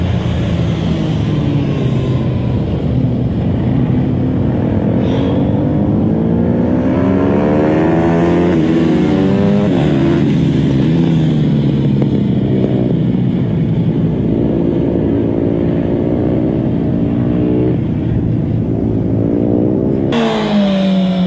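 Motorcycle ridden through a series of S-bend corners, its engine revving steadily with rising and falling pitch as it flicks from one lean to the next, loud and continuous throughout with no talking.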